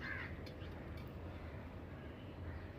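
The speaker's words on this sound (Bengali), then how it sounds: "কাক সব আওয়াজ শুনতে পাবেন।" Crows caw faintly in the distance outdoors, a few short calls near the start over a low background rumble.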